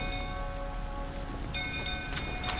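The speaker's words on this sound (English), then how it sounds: "Looks like rain." Rain falls in the video game Witcher 3 Wild Hunt as a soft, steady hiss, quiet and continuous, with faint tonal game sounds behind it.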